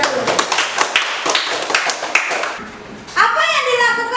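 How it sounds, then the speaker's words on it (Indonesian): A short burst of clapping from a small group of hands, uneven and lively, fading out before a voice starts talking. "tepuk tangan untuk Terit"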